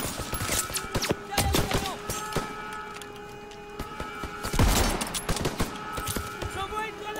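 MP40 submachine gun bursts in a Call of Duty WWII battle, rapid loud rattling shots in several volleys with heavier thumps and explosions mixed in, over a busy wartime backdrop with a voice briefly present.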